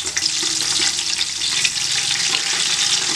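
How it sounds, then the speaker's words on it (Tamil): Whole spices, cloves and bay leaves, tempering in hot oil with four green chilies for a chicken biryani, giving a loud, steady, crackling sizzle that runs unbroken throughout. "4 பச்சை மிளகாயை இதில் போட்டு தாளிச்சுக்கலாம்"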